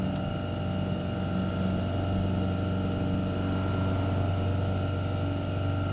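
A Baldor 1/3 HP induction motor runs steadily with a constant electric hum and whir, close and even throughout, with no voices.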